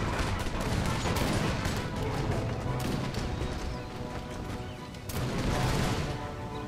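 Musket volleys crackle in Empire: Total War with the American Revolution mod, dense rolling gunfire sustained across the battle, easing briefly then bursting loud again, with battlefield din underneath.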